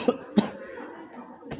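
A person still recovering from an illness coughs: two short, sharp coughs in quick succession, then a softer third one a moment later, close to the microphone.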